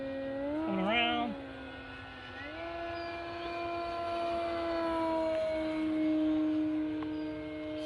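An E-Flite RC airplane's electric motor whines with a tonal, buzzing note that dips and wobbles early, then climbs and holds a higher pitch as it runs up to full throttle, heard from a moderate distance.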